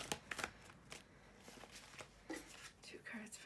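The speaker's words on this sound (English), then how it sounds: "I'm just going to give this deck one last quick shuffle." A tarot card deck is shuffled by hand in quick, close bursts of riffling and flicking cards, quiet and uneven in rhythm, with soft breathy voice sounds in between.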